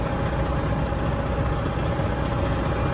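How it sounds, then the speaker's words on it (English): A truck engine idles to build air brake pressure, a constant close rumble with no breaks, heard alone without voices. "we got our idling up, build up pressure"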